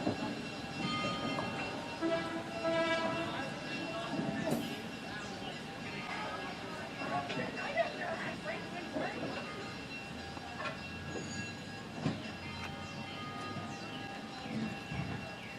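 Train on opening day at a railway museum, pulling in and out of the yard with rumbling wheels and clanks under a broad outdoor wash of noise, fairly distant and steady.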